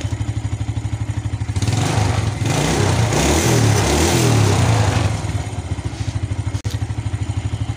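A motorcycle engine idles after carburetor tuning, with a steady rhythmic putter close by, then rises to a louder revving stretch in the middle before settling back to an even idle.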